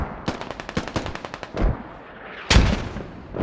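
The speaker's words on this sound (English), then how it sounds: "Nice mortars from Conan inside the compound this time." Mortar and gunfire in a tactical military shooter game, a rapid run of sharp cracks followed by heavier booming impacts, loud and close with no talk.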